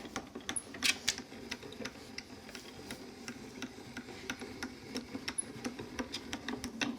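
A die cutting machine feeds paper through in a steady run of quiet, evenly spaced mechanical ticks and clicks, close and faint, with no talk.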